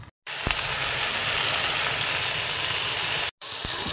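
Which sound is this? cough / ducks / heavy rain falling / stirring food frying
stirring food frying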